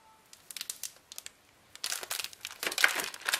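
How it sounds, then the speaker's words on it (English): A package of pumpkin spice baking chips is cut open in a kitchen, giving scattered soft crinkles of plastic wrapping that grow busier and louder toward the end, with no talk over them. "And I'm going to just cut this package open so that I can add the chips to it."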